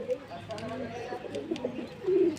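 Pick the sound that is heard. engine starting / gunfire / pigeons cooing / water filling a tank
pigeons cooing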